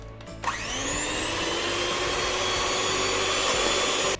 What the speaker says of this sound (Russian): Нужно будет взбить миксером.